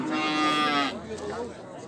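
A tall cow at a livestock market lets out one long, loud moo close by, tapering off after about a second into quiet market background.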